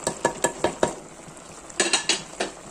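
Grated coconut stirred into squid thoran in a pan, a series of close, sharp utensil scrapes and knocks in an uneven rhythm over a faint sizzle.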